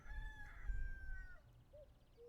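A rooster crows in the video game Tavern Talk, one clear, drawn-out crow near the start followed by a couple of short clucking calls, quiet and alone against a soft background.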